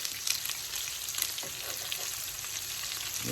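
Turkey meatballs browning in a pan give off a steady, close hiss of frying and sizzling with no talking.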